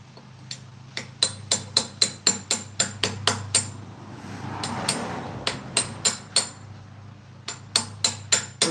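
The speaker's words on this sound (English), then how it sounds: "We're chipping off all the old concrete that someone used back in the 60s to repair this with." A hammer striking a chisel to chip off old concrete once used for a repair back in the 60s, sharp, ringing blows in fast steady runs, with a brief pause and scraping in between, close and loud.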